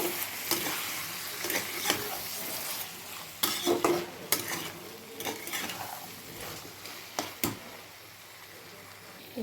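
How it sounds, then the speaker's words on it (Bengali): Capsicum, green chili and tomato fry in a pan, a soft hiss of sizzling broken by clattering spatula scrapes and knocks against the metal, close-up and without speech. "আমি এতে ক্যাপসিকাম, কাঁচা লঙ্কা, টমেটো সব দিয়ে এবার আমি ঢাকা দিয়ে ভাজা ভাজা করব।"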